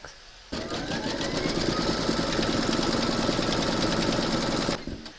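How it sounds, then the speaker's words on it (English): An embroidery machine stitches a round on fabric held in a hoop, a fast, steady mechanical chatter starting abruptly and running evenly for about four seconds before stopping. "Pop your hoop into your machine and stitch round number 4"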